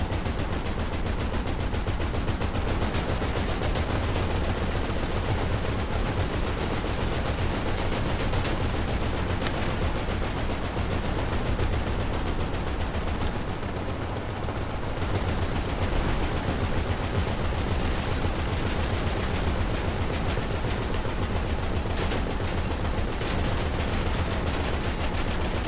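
Dense, continuous automatic gunfire in a Grand Theft Auto V deathmatch, rapid overlapping bursts and shots rattling nonstop at high level with only a brief dip midway and no talking.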